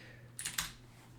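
Quiet, close keystrokes on a computer keyboard while editing files in a text editor, a couple of quick clicks over a faint steady room hum.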